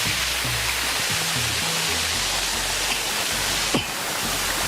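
Waterfall pouring down through a natural outdoor setting, a steady dense rush of falling water close by that fills the whole clip without pause.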